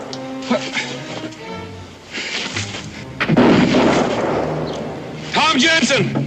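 Gunfire in a western film: sharp shots and heavy booming bursts crack out at close range, mixed with voices talking and shouting.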